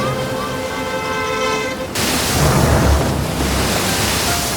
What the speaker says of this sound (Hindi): ये चांद के मतानत की वजह से लहरें उठ रही हैं